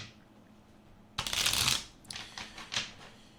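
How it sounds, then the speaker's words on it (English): A deck of tarot cards is riffled in one quick burst, followed by a few softer shuffles and taps, close by and with no talking. "And we're all shuffled, and now I am going to cut the deck."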